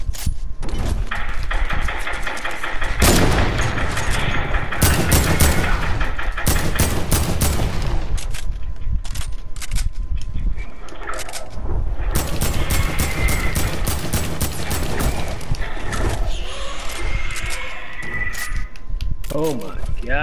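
Video game gunfire crackles in dense rapid bursts and sustained machine-gun volleys, mixed with horse whinnies and hoofbeats, while a player talks loudly over much of the action.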